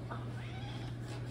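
A pet cat that wants to go outside gives a single plaintive meow, close and fairly soft over a steady low hum of room noise.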